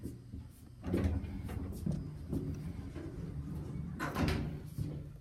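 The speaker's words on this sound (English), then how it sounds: "This is the elevator at the Ramada Plaza Hotel in Niagara Falls, Ontario. And this is an Otis Series 1 older model from" Doors of an older 1983 Otis Series 1 hydraulic elevator at a hotel in Niagara Falls, Ontario, sliding and thudding in two bursts, near and moderately loud over a low mechanical hum.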